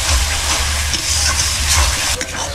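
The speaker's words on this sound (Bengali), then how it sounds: "মশলাটি ভালোভাবে কষানো হবে, যতক্ষণ না মশলার থেকে তেল না ছাড়বে ততক্ষণ অবধি মশলাটি আমি ভালোভাবে কষিয়ে নেব।" Bengali-style chicken korma spice paste stir-frying in oil, a loud steady sizzle with scraping stirring throughout.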